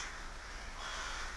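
A large flock of rooks, tens of thousands wintering around a bamboo forest in Ulsan, caws continuously in a dense, overlapping chorus that holds steady throughout at moderate distance.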